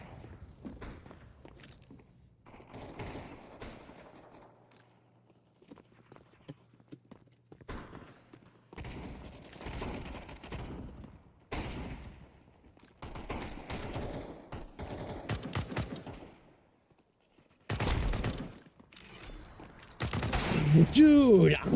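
Gunfire in the video game CS:GO: scattered single shots and rapid bursts with footsteps, coming in clusters across the clip, loudest near the end, with a voice talking over it at times.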